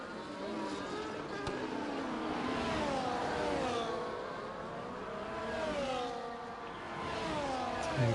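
Aston Martin race car engine in a racing video game at the Belgian GP, rising and falling revs with gear shifts, several cars' engine tones layered and whining through the laps, moderately loud and continuous.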